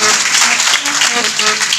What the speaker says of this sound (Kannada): ತಾವೆಲ್ಲರೂ ಜೋರಾದ ಚಪ್ಪಾಳೆ ತಟ್ಟಬೇಕು